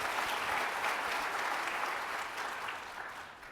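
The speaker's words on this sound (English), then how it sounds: "Please give a round of applause to Tony for doing that quick turnaround." An audience at a corporate event applauds for a few seconds, a dense, even wash of clapping that tapers off slightly toward the end, with no voices on top.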